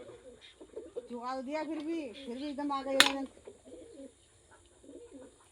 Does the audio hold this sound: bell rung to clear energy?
no